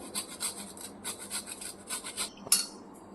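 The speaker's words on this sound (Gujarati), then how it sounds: "આદું આપણે સીણીને નાખીશું" Fresh ginger is grated by hand, a series of short rasping scrapes in a quick uneven rhythm, close and quiet, with a small clatter near the end.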